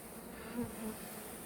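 Honeybees buzz at an open hive during an inspection, a faint, steady hum with a brief louder pass of a single bee close by.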